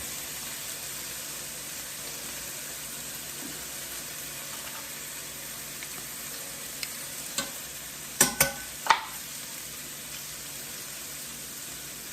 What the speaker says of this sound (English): the rice is frying